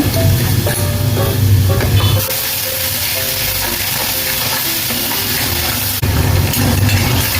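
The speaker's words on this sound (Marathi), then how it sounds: "वाटणाचा कसवटपणा जाईपर्यंत आपण हे चांगलं फ्राय करून घेऊया" Ground masala paste fries in a hot pan with garlic for Bombil kalvan, a loud continuous sizzle with stirring scrapes, close and steady throughout.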